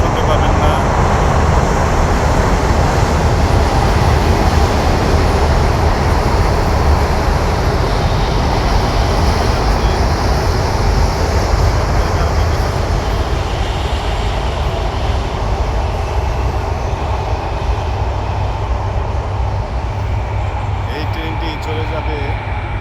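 A train rolls over an iron railway bridge above a village, a loud, steady, heavy rumble and clatter that fills the whole stretch and eases only slightly toward the end.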